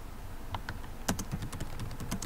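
Typing on a computer keyboard: a quick run of close, crisp key clicks in an irregular rhythm, with no speech.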